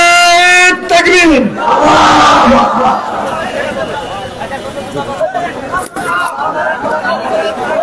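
A rally crowd chanting takbir, a loud massed shout answering a leader's call, following a speaker's voice, then crowd chatter continuing beneath as a speaker talks.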